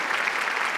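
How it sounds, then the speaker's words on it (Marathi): Studio audience at a Marathi TV comedy show bursts into dense, steady applause, many hands clapping together in a brief, even wash with no voices. "एकदा जोरदार टाळ्या त्याच्यासाठी"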